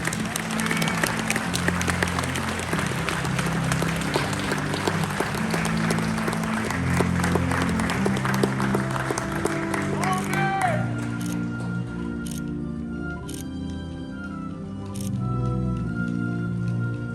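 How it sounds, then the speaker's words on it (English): An audience applauds steadily at an Army basic training graduation on a parade field, dense clapping for about ten seconds that then thins out while an announcer's voice carries over it. "please join us in a round of applause for the United States Army Infantry Rifle Squad"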